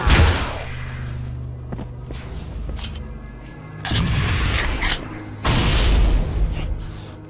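Grenade explosions in the Halo video game: a heavy boom opens, then two more thunderous blasts follow after a lull, each with a rumbling tail and some clattering mechanical noise between.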